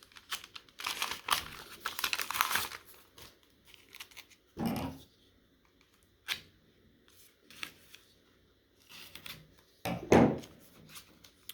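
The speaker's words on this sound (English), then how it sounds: "Get this out of the envelope." A wartime item slides out of a paper envelope, producing quiet, intermittent rustles and crinkles in short bursts separated by near silence, heard close up.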